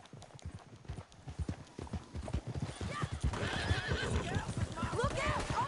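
Horse hooves gallop at a steady rhythm in Red Dead Redemption, with a horse neighing and whinnying repeatedly in the second half, under voices talking and game music.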